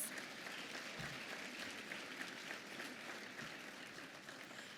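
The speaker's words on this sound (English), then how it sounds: "I started to hear some clapping over there, yes." An audience at an awards gala applauds, sustained clapping from many hands at moderate, fairly distant level, steady from start to end.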